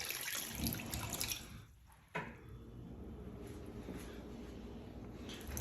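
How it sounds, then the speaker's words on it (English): Water splashes and pours steadily into a Staub pot holding beef tongue, faint and close, with a brief pause before the flow resumes. "I'm going to add in another 4 cups of water here."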